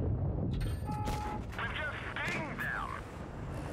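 A tank gun firing in World of Tanks Blitz from an Object 252U tier 8 heavy tank, a sharp blast near the start amid ongoing battle noise and chatter.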